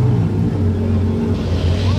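Ferrari 812 Competizione rolling past outside a casino in 4x4 mode, a steady low engine rumble held close and loud for the whole moment, with voices chatting over it.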